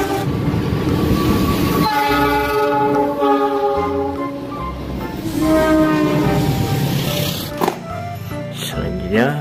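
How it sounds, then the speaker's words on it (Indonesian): Train passing with cargo wagons, loud and close, with rumbling wheels, repeated horn blasts and rhythmic clatter of the cars going by. "Ada juga gerbong kargo."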